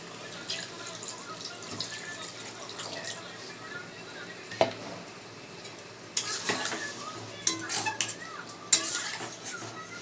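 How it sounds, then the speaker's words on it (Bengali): Water poured into butter chicken masala in a pan, then stirred, with faint splashing, scraping and clinks of a utensil against the pan, several sharper knocks toward the end, close by and without talk. "কষানো হয়ে গেছে, এবার জল দিয়ে দেবো"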